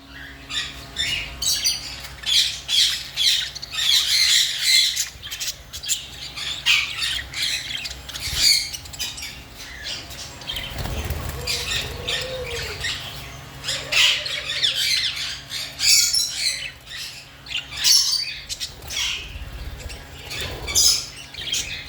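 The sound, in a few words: Japanese budgerigars squawking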